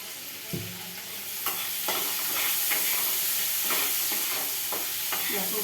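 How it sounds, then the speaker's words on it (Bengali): Onions frying with a pinch of salt in a pan, a steady close sizzle with repeated stirring scrapes throughout. "এবার এই পেঁয়াজের মধ্যে আমি একটু নুন দিয়ে ভাজবো"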